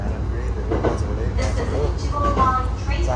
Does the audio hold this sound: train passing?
yes